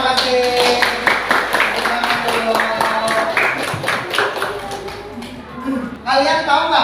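Classroom of pupils clapping in rhythm to a call-and-response hand-clap chant, sharp repeated claps in steady patterns under loud group chanting voices.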